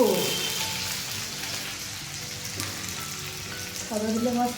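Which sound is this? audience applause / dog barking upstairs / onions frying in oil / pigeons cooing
onions frying in oil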